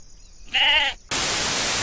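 A single short sheep bleat, close and clear, followed abruptly by a burst of loud hiss.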